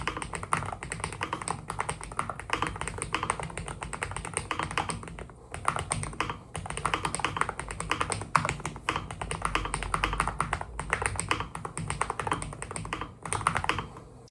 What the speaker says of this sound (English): I think it's time to hear the sound of this keyboard